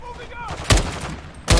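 Two sharp, loud bursts of gunfire in the video game Call of Duty: Modern Warfare II, one after a quiet stretch and another near the end, with faint electronic tones in between.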